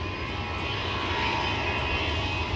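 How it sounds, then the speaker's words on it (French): An airplane takes off in the distance, its engine roar a steady, broad rumble that holds level and slowly swells for a couple of seconds with no talk over it. "on va regarder l'avion décoller ou quoi? Allez, on le regarde décoller."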